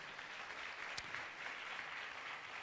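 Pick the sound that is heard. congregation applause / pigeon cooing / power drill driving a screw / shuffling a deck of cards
congregation applause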